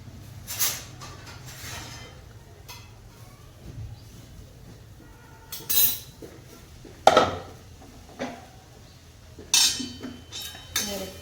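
Plates and dishes clink and knock in a home kitchen as a plate is brought over, a few sharp scattered clatters over quiet background with faint talk.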